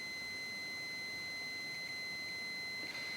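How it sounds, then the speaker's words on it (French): A faint, steady high-pitched continuity tester beep on a coaxial antenna cable holds as one continuous tone from start to finish over a soft background hiss. "nous avons le petit bip."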